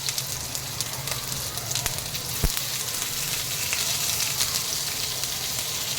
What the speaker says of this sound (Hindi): अभी मैं इसमें ये प्याज डाल दूँगी